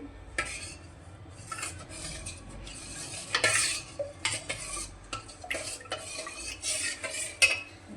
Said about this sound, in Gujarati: સરસ રીતે આને હલાવી લેવાનો છે, લમ્સ ન રહે એ રીતે.